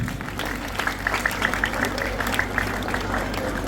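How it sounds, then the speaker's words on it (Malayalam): Audience applause at a stage event celebrating Murukan Kattakada's 25th year: a dense, continuous patter of clapping from a crowd, steady and moderately loud, with a low background hum beneath it. "എല്ലായിടത്തും കൈയടിച്ചേ."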